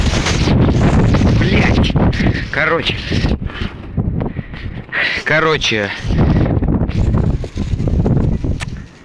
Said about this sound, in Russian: Как вы видите, сейчас пиздец какой сильный ветер